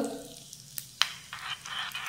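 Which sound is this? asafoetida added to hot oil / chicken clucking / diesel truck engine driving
asafoetida added to hot oil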